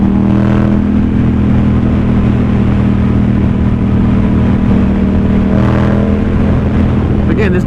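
A 2018 Yamaha XSR700 motorcycle fitted with a fuel injection tuner runs its engine loud and close, holding a steady rumbling drone with slight rises in revs and wind noise over the microphone.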